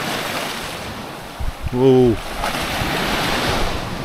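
Big ocean waves break on the Portugal coast in a continuous wash of surf and wind, and a man briefly exclaims partway through.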